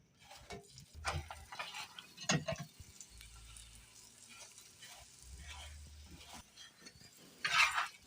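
Aloo paratha sizzling on a hot tawa in oil and butter, a faint intermittent fry with soft clinks and scraping now and then, and no one speaking.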